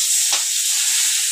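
Grated raw mango tipped into a hot tempering of oil and spices for mango rice, giving a steady close sizzle with a brief hissing burst as it hits the pan, then continued frying crackle.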